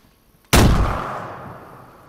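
One loud, close gunshot rings out in the video game DayZ, its sharp crack fading into a long rolling echo that trails off over more than a second.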